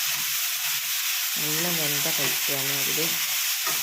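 Bitter gourd stir-frying in a pan as the water cooks off, a steady hissing sizzle throughout, with a person speaking over it for much of the time.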